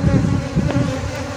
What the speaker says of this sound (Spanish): aquí llegaron las abejas a picar